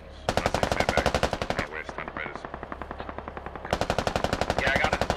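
Machine gun fire in a tactical military shooter game rattles in long, rapid automatic bursts with a short pause in the middle, loud and close with a dull rumble beneath.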